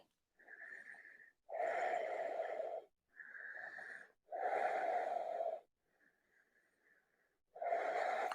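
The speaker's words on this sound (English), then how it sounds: "Take as many breaths as you need." Slow, deep breathing during a yoga pose, close and fairly quiet: long airy inhales alternate with fuller, throaty exhales in an even rhythm, with a brief quiet gap before the last breath.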